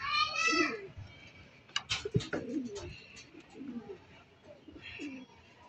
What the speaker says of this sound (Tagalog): Ito mga kaibon o.